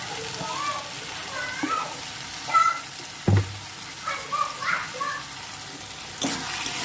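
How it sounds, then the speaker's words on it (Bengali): Spices and sauce frying in a pan for a dish to go with roti or paratha, a soft steady sizzle with stirring scrapes and a few clacks, while someone speaks at times over the cooking. "ভালো করে মশলাটা কষে নেবে এবারে।"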